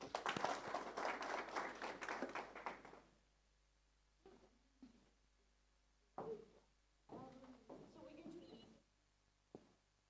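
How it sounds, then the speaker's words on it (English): An audience in a plenary conference hall gives a burst of applause that lasts about three seconds, then trails off. Short stretches of close speech and a few light knocks follow. "Can we just give another round of applause?"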